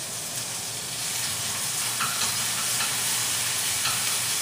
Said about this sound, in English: Make sure you have a nice sizzle.